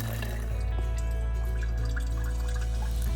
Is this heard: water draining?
yes